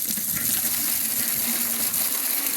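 Water gushes from a tap, a steady close hiss and splash that runs continuously without pause and with no voices.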